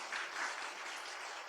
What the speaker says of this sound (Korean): 우리 하나님께 영광의 박수 한번 돌려주세요.